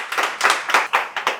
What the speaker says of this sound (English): Let's clap it up for the success.